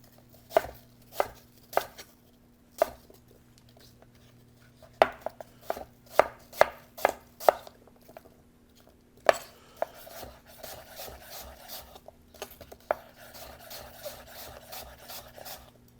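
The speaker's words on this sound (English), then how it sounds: "we're just going to cut thin slices" A kitchen knife slices apples into thin pieces on a cutting board, a run of crisp, evenly spaced chops close up, speeding into a quicker, denser flurry toward the end, with no talking.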